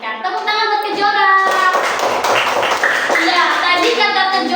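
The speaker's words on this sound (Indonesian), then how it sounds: "Tepuk tangan buat Kejora" Classroom applause for a student named Kejora, a short burst of clapping from a group of pupils rising in the middle, with children's voices talking and chanting around it.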